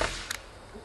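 A Daisy Powerline 5501 CO2 BB pistol fires a single sharp shot, a brief crisp crack standing alone in a short quiet moment.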